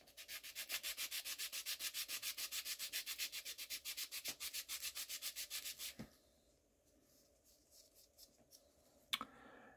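Sandstone from the Longyou Caves in China is sanded by hand in rapid, rhythmic back-and-forth strokes, loud and close, then stops, leaving faint scraping and a sharp tap.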